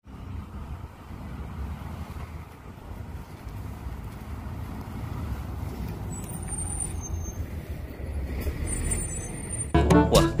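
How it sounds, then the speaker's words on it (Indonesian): A bus with air brakes: a low steady engine rumble builds over several seconds, then a sharp loud hiss bursts out at the very end. "Di sini ada bus oleng."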